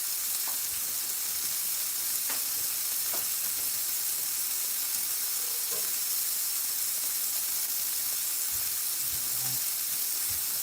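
Buns sizzling in a skillet on a home stove, a steady, even frying hiss with faint crackles and occasional soft clinks, close and fairly quiet throughout.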